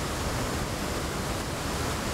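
A steady, dense rush of falling water from a waterfall in the video game Devil May Cry 4, an unbroken hiss that fills the whole moment with no voices over it.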